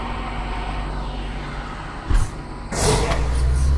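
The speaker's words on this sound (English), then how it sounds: "Tram released." A tram being released from its mount in the zero-gravity game Lone Echo 2 gives a brief mechanical clunk, then a loud broadband hiss like an air brake venting over a steady low hum.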